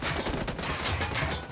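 Rapid, dense gunfire in the tactical shooter Ghost Recon Wildlands, a loud sustained burst of overlapping shots filling the whole moment with no pause.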